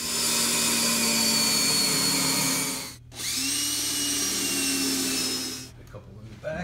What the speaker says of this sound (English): I'm just gonna screw the new joist into the old one, straight across.